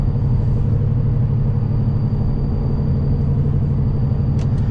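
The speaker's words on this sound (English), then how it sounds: "These tires are pretty chopped and noisy too" Steady low road rumble from worn, noisy tires on a 2009 Chrysler Town & Country Limited 4.0L with 133,000 miles, heard from inside the cabin as a constant loud drone.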